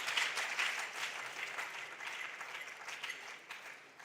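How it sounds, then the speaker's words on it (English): An audience at a national junior science and maths quiz championship gives a sustained round of clapping, loud and dense at first, then settling into a steady, even patter that continues throughout. "give yourselves a thunderous round of applause"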